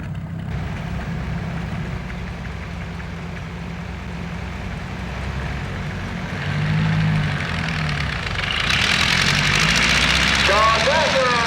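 A Minneapolis Moline U antique tractor idles at a steam threshers show in Darke County, its engine a steady low rumble that swells louder toward the end, with crowd noise and chatter around it.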